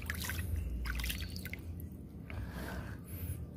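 Water drips and trickles onto a rock-mounted serut bonsai while it is watered, a quiet, steady run of small splashes and patters with no voices.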